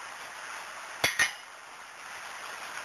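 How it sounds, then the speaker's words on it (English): Two sharp metallic clinks, a spanner knocking against an oil filter remover while undoing a car's oil filter, sound close and brief over a faint steady background hiss. "I then use a spanner over the remover"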